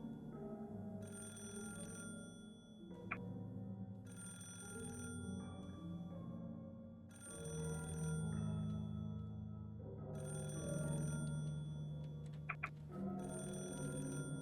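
A telephone rings in a hallway scene of the Higurashi: Meakashi visual novel game, sounding in regular repeated bursts separated by short gaps, alone without any voices.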